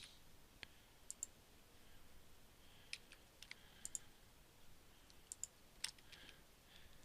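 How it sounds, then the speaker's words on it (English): Sparse computer mouse clicks while several items are Shift-selected, scattered singly and in small pairs, very quiet and close against a soft background hiss. "Holding down Shift, I'm clicking on all of them."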